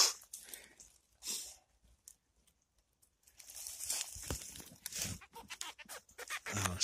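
Oyster mushrooms are pulled from a stump in a late-autumn forest, giving close, crisp squeaks and crinkly tearing in irregular bursts separated by near-silent pauses.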